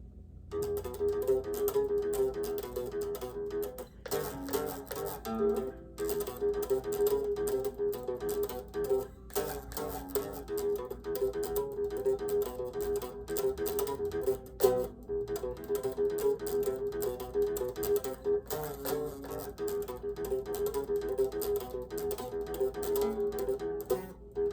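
A riff played on guitar, a steady chugging pattern repeating continuously with brief gaps, moderately quiet and even throughout about twenty-four seconds, with no speech.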